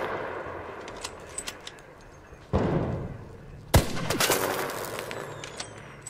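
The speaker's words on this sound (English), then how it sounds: "Hearing like the echoing gunshots in the distance" Distant gunshots echo through a video game environment, a couple of sharp cracks with long reverberant tails rising over a faint background, with scattered softer pops between them.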